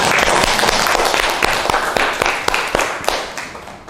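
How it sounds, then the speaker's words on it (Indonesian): Audience clapping during a classroom lesson, a steady patter of many hands with sharper individual claps, fading slightly toward the end. "Kasih tepuk tangan dong."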